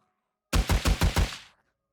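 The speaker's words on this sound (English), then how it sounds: "one of the AK is calling in more zombies by shooting like this" A short burst of AK rifle fire in the zombie survival game 7 Days to Die: five rapid, evenly spaced loud shots over about a second, then a quick decaying tail into silence.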